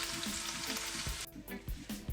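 Saltfish and vegetable fritters frying in hot oil, a close, continuous crackling sizzle with small bubbling pops and a brief dip partway through, heard alone without talk.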